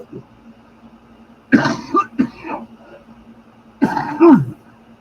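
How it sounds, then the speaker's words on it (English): Two separate bursts of coughing, close to the mic, about two seconds apart, with a quiet pause between them. "Sorry, y'all, that I'm coughing in your ear so much."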